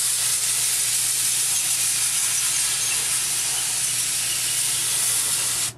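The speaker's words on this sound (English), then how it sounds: "And then I take my air compressor" An air compressor blows a strong, steady hiss of air through the coil of a window air conditioner, loud and close, continuing unbroken until it cuts off abruptly at the end.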